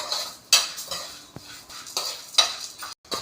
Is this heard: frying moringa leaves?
yes